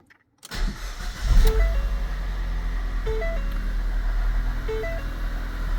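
A 2014 Ford Fiesta 1.6 engine, just fitted with a new timing belt and water pump, cranks briefly, catches and settles into a steady, close idle, with a few faint electronic chime tones sounding over it.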